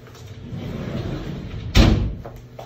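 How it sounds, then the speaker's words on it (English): Sliding shower door rolls along its track in a bathroom showroom, a low rumbling glide building for over a second and ending in a sharp thud as the magnetic closure catches. "Both operate on a sliding door track with magnetic closures."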